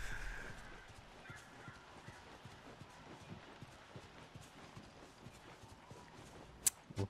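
Horse hooves clip-clop in a steady, moderately faint rhythm while riding in The Last of Us video game on PS3, with a couple of sharper knocks near the end.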